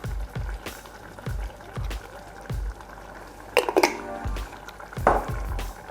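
A spoon clacks rhythmically against a bowl while marinara sauce ingredients are mixed together, several evenly spaced knocks with wet stirring between and a couple of brighter scraping clinks.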